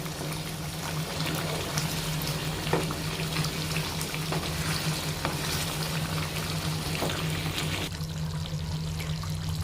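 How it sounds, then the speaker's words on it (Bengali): Corn curry cooking in a pan as garam masala goes in and it is stirred: a steady close sizzle and frying hiss with soft scraping stir sounds running continuously throughout. "এবার এর মধ্যে দিয়ে দিচ্ছে গরম মশলার গুঁড়ো। ভালোভাবে একবার নেড়ে নেবে।"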